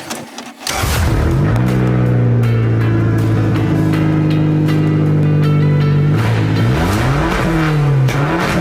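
A Subaru Brat driving, its engine a loud, steady drone that holds one pitch, then rises and falls as it revs near the end.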